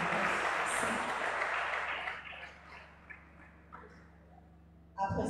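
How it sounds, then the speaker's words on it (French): Audience applause at a regional slam and music event, heavy at first and then thinning into scattered claps before fading to a low hum, with a new sound starting at the end. "Merci beaucoup, applaudissons."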